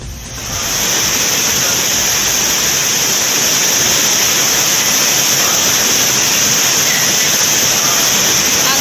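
Courtallam main waterfall in flood, a loud, steady roar of heavy water crashing down, continuous and close with no break or other sound.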